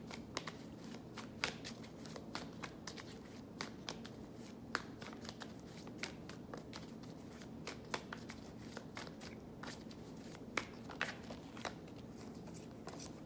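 Tarot cards being shuffled by hand, a quiet continuous riffling with scattered sharp flicks and snaps, close and soft with no voice over it.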